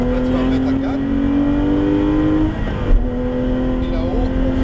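A Porsche GT3 accelerates in third gear, its engine holding a strong, steady tone that climbs gradually from inside the car, with people talking over it.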